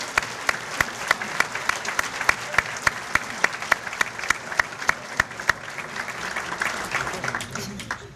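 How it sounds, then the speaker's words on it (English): Audience at a chamber of commerce awards banquet applauds in a sustained, steady wash of clapping, with a few sharp, evenly spaced claps ringing out close and loud above the crowd throughout. "Give these people a round of applause."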